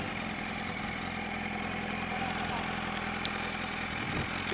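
Motorcycle engine idling nearby, a steady low putter that holds even throughout, faint under quiet background sounds.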